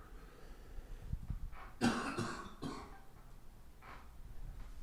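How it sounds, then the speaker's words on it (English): A few quiet, close coughs in a short cluster, with some throat clearing, against a faint background hum. "I still got the cough here"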